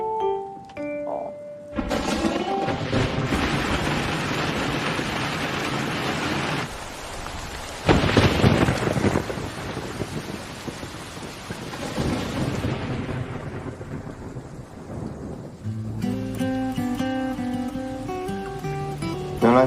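Steady rain with rolling thunder on a rainy day, a dense wash of rainfall with a louder thunder swell midway, fading into soft music toward the end.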